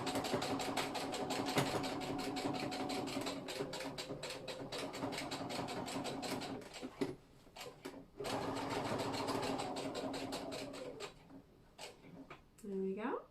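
A sewing machine at stitch length 4 top-stitches denim for Megan Nielsen Dawn jeans, a fast continuous mechanical chatter running in long close runs, broken by a short pause and a quiet stretch at the end.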